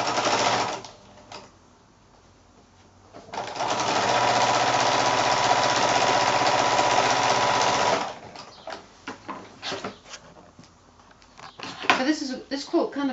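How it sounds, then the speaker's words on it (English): Sewing machine stitching a half-inch seam on a raw-edge rag quilt, a loud steady whir running unbroken for several seconds between quieter stretches where someone talks. "So back to the sewing machine."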